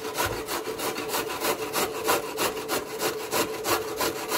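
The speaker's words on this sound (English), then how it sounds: "here we go with the grating of the carrots" Carrots being grated by hand, a close, steady rhythm of rasping strokes, each a brief scratchy scrape repeating about four times per second, with no voices.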